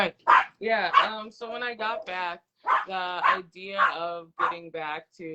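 A dog barks and yips in short bursts close by, mixed in with a person talking through the same stretch.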